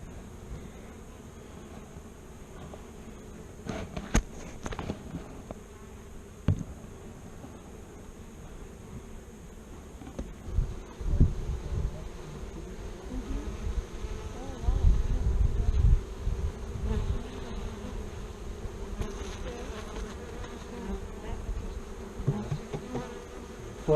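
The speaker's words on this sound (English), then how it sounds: "Bees are flying in and out, trying to stay out of their way." Honey bees flying around a Flow Hive after a powdered sugar varroa treatment: a continuous faint buzzing of many insects outdoors, with individual bees passing close now and then and soft wind and rustling beneath.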